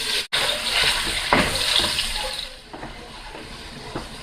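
Lasagna going into hot oil for a beef and cheese lasagna sets off a loud, close, hissing sizzle that gradually settles, with a few small pops.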